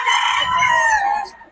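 Chickens at a market stall selling chicks, one loud, close call with a drawn-out crowing quality that fades near the end.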